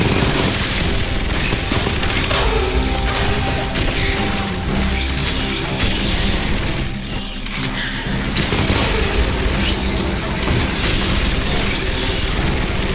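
Type 95 handgun fire in the sci-fi shooter Aliens: Fireteam Elite, dense loud bursts of gunfire blended with crashes and the roar of battle, continuous and close throughout.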